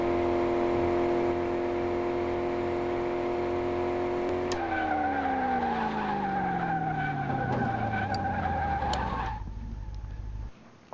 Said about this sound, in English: the brakes do lock up at the end, and your car just goes soaring off